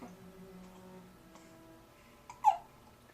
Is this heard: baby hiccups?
yes